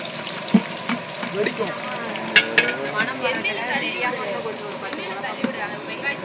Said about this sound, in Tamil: வெங்காயம் வந்து பொன்னிறமா எல்லாம் வேகணும்